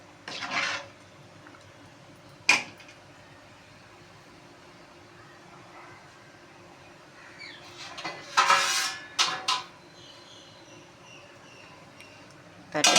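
Food being stirred in a cooking pot, with a few sparse scraping and clinking strokes of the utensil against the pot separated by quiet gaps and a cluster of scrapes near the end.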